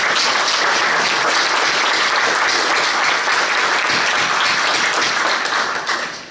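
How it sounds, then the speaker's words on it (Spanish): A conference audience in a hall applauds loudly to welcome a Brazilian jurist to the podium, dense continuous clapping that holds steady and then starts to fade at the very end. "El caso Lavallat, a quien recibimos con unas fuertes aplausos"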